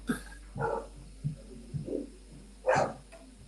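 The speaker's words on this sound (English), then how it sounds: "this dog is out of control today" A dog barks several times in short, separate yips and woofs, fairly faint and irregularly spaced over low steady background hum, with no talk.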